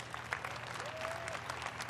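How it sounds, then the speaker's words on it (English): An E3 press conference audience gives a steady round of applause, dense clapping from a large crowd holding at an even level throughout the short stretch. "Let's give them all a round of applause."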